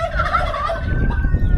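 A homestead turkey gobbles once in a quick warbling burst over low rustling background noise, close by, with no talking.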